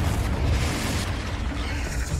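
Confringo spell explosion in Hogwarts Legacy, a loud, dense rumbling blast that fills the whole short stretch without a break.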